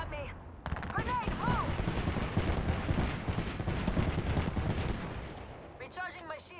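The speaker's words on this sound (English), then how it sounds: "They're shooting at me." Gunfire in the Apex Legends battle royale: dense, sustained bursts of shots and impacts run loud and continuous for several seconds, with a voice speaking over the start and again near the end.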